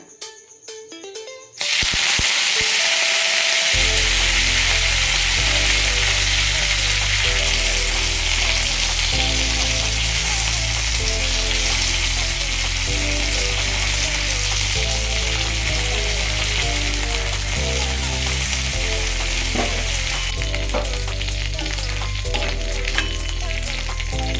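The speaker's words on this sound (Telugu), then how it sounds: "ఇప్పుడు మునగాకు ఫ్రై చేసుకున్నాం లైట్గా." Moringa leaves fry lightly in a hot pan with a steady, loud, dense sizzle throughout, stirred occasionally, after a brief quieter start.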